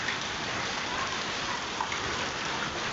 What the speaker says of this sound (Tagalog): Ayan, ang ulan natin ngayon dito sa Iraq.